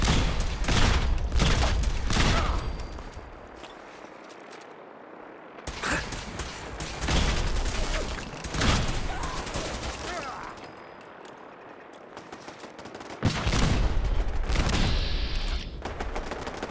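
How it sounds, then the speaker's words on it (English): Bursts of rapid gunfire and booming explosions in the video game Fallout 4 come in waves, loud and close, separated by quieter stretches. "I heard so much gunfire happening over here."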